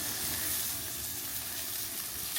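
Porterhouse steak searing over a hot barbecue fire, a close, continuous crackling sizzle with a dense hiss and low roar beneath, steady and unbroken, no voices.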